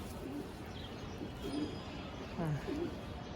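A pigeon that returned after going missing coos faintly in a few short, low calls against a steady background hum.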